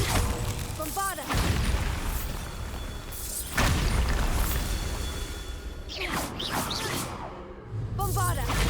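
The Bombarda blasting spell goes off repeatedly in Hogwarts Legacy on PS5. Several heavy booming blasts with whooshing bursts land a few seconds apart over a rumbling game background, loud and close.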